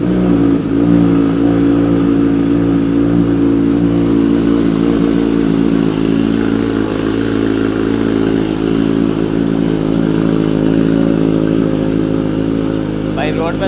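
A Kawasaki Z900 motorcycle fitted with a new titanium header runs loud and close, its engine droning steadily with slight revving swells throughout, while people talk underneath the exhaust note.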